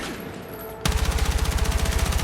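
Gunfire in the video game Battlefield 6 erupts after a quiet moment into loud, rapid automatic bursts, a steady rattling fusillade that continues to the end.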